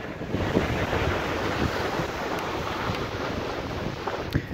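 Ocean surf rolls in a steady wash along a windy shore where a kite is flown for freestyle tricks, heavy wind buffeting the microphone over the continuous wave noise, with no one talking.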